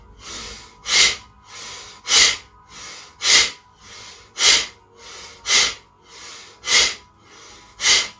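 Rapid forced breathing during a hatha flow yoga session, strong rhythmic exhalations alternating with softer inhalations, about a dozen breaths at a quick steady pace, close and loud with no talk.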